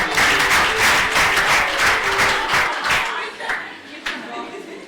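An audience of students at a university welcome ceremony in Mwene Ditu applauds loudly and steadily for about three seconds, then the clapping thins to a few scattered claps.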